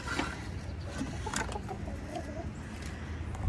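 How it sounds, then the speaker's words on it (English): Hens clucking, eager to be let out of their coop on a farm in the morning, a busy mix of close clucks and soft calls over constant background rumble, with no talking. "Chickens are eager to get out this morning."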